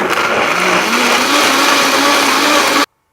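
A blender whirs at full speed while blending cashews into milk, a loud, steady motor roar that runs continuously for nearly three seconds before cutting off abruptly to silence.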